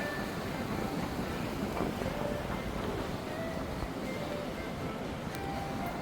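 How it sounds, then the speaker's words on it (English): Wind buffets a microphone outdoors between two towers at the Visionary Park complex in Bangkok, a steady, dense rushing roar that stays loud and continuous throughout. "I can feel it's a bit windy"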